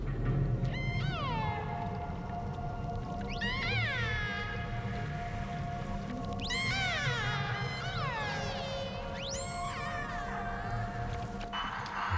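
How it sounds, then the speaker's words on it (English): A played recording of orca calls gives faint, repeated rising and falling whistles and squeals in about four bursts over a steady background rumble, with no talk. "Jamie, we are commencing to play the orca sounds in 3, 2, 1, and go"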